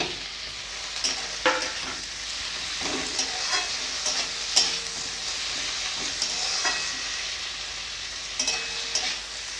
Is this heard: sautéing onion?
yes